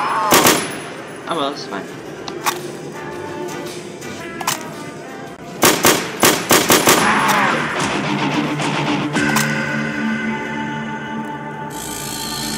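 Gunfire from a video game weapon rings out in single shots and rapid automatic bursts, loud and close, with a brief spoken remark over it.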